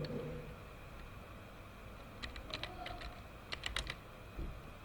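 Computer keyboard keys tapped in short, uneven bursts while an online visa application form is filled in, the soft clicks close by over a quiet room hiss.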